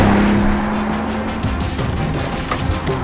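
A 2025 Lamborghini Urus SE with a hybrid twin-turbo V8 accelerates hard, its engine note droning steadily and then breaking into shifting, rising revs, close and fairly loud with no voices.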